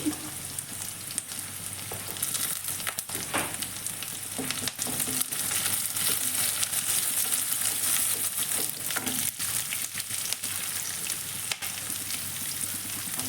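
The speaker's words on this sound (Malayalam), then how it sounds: "അതൊന്ന് പെട്ടെന്ന് വഴറ്റിയെടുക്കുക" Chicken, ginger and onion sautéing for chilli chicken in a hot pan, a steady loud sizzle and fry crackle running throughout with occasional stirring scrapes and no voices.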